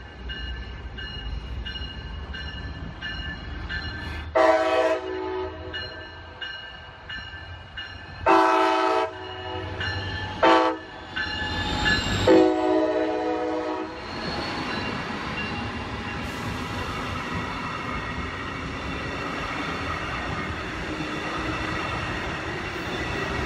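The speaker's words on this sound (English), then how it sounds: "I'm going to let this train go by because it makes a lot of noise." A Brightline train rumbles past a grade crossing, its horn sounding in several long blasts, then the rolling noise of the cars continues steadily close by.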